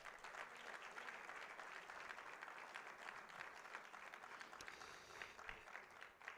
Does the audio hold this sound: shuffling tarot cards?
no